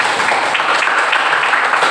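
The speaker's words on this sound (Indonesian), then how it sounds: "berikan tepuk tangan buat teman" A classroom of students applauds a classmate, a short, loud, dense burst of steady clapping heard on its own.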